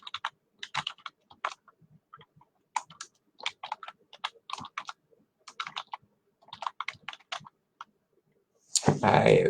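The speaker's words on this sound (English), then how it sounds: "So I'm just going to type in my contact information." Contact information is typed on a computer keyboard: bursts of crisp, close key clicks in irregular rhythm with short pauses, ending in a brief louder rustle.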